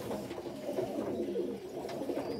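A pigeon perched on a house roof coos softly in a steady, low murmuring run, close by and alone with no talking.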